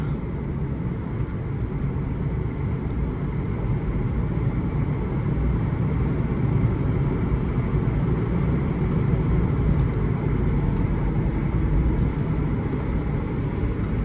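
A 2016–2017 Ford Ranger Wildtrak pickup with the 2.2 automatic drives along, a steady broadband road and engine rumble heard from inside the cab, even and continuous with no talk.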